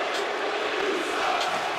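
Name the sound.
wrestling crowd reacting and cheering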